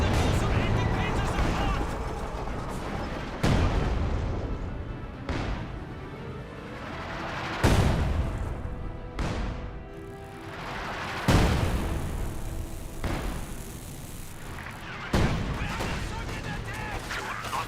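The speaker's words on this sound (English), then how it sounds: "SU-76 rolls a miss, and now eyeing for a barrage." An artillery barrage pounds away in the Company of Heroes 2 strategy game, with heavy shell impacts landing every few seconds over a constant rumble of battle while a voice talks throughout.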